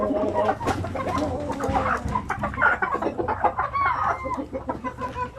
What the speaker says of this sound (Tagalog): So yan po ang ating mga Zampi native chicken.